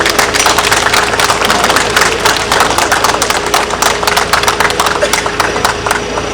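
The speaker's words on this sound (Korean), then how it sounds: "아버지 박수 한번 보내주세요." Dense applause and clapping from a crowd at an outdoor local-election campaign rally in Yeongdeok, a steady loud wash of claps lasting throughout, with a low engine-like hum and a steady tone underneath.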